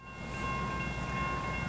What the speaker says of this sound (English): the railroad tracks and the railroads in this section of town, you could probably hear, are up and running